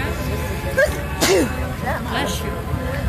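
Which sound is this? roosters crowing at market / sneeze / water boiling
sneeze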